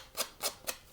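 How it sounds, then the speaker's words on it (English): A sanding block rubs along the edges of a handmade card, giving three short, soft scratchy strokes evenly spaced about a quarter second apart, quiet and close with no voices. "I like using my sanding blocks"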